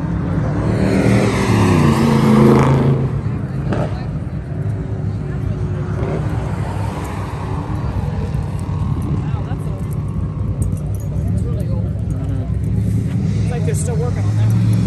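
A supercharged Ford Deluxe idles and rumbles at a car show cruise, a deep, steady engine burble with a brief louder rev early on, while people talk nearby throughout.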